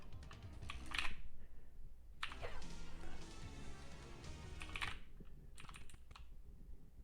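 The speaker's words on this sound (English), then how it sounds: "I don't know if you can hear my keyboard" Quick clattering keystrokes on a computer keyboard come in bursts close to the mic, with short pauses between flurries during a fighting-game stream.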